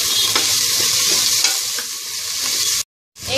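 Finely chopped boneless chicken and green chillies fry in a pan with a loud, steady sizzle and occasional stirring scrapes, then cut off abruptly near the end before resuming briefly.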